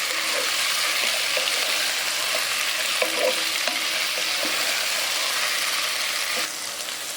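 Tomato, chickpeas and potato sauté in a pan for a chicken chana gravy, a constant loud frying hiss with scattered light clicks and scrapes of stirring throughout.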